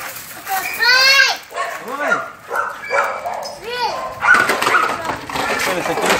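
Several dogs bark at a guard dog kennel, loud and close, in sharp bursts with a few whimpers and yips between them, while people talk nearby.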